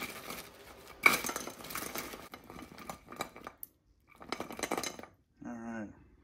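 Chicken wings being tossed in hot sauce in a bowl make close, intermittent clattering and scraping bursts with short silent gaps, and a brief voice appears near the end.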